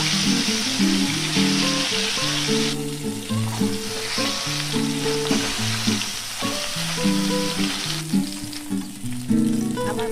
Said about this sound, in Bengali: একইভাবে আমি বাকি মাছগুলোকে ভেজে নেব